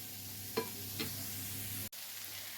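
Tomatoes frying in a pan with a steady close sizzle, two light utensil taps early on, then a brief cut and the hiss continuing more quietly.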